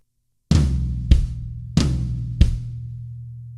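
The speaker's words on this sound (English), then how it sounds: "We're going to hit the floor tom and then the bass drum." Four drum kit hits played evenly, a booming floor tom alternating with a punchy bass drum kick about two thirds of a second apart, close and resonant, with a low ring sustaining after the last hit.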